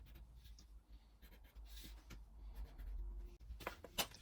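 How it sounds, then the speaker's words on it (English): A pencil scratches marks onto wooden side panels in a workshop, with soft, quiet strokes and light rubbing that come in short bursts against a faint background. "Now I can mark the side panels from the front panel so I can cut the corresponding biscuit slots."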